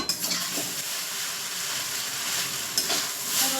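Chopped chilli and chopped coriander stirred into paneer chow mein frying in a pan: a steady close sizzle with scraping stir strokes throughout, no talking.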